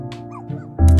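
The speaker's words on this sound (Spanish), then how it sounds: "Ahí está el perro. ¿Qué le pasa? ¿Qué pasa? ¿Por qué ladras?" A dog in a cat life simulator video game gives a few short barks and yips, close and fairly loud, with a louder bark at the end.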